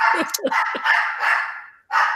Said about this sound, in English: I want to thank my dog for barking